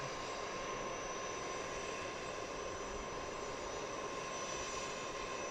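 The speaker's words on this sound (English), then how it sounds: "Another unidentified aircraft coming in from the west." An aircraft approaching Harrisburg International Airport from the west, heard as a steady, fairly faint broadband engine roar with a constant whine that holds evenly through the whole stretch, with no one talking.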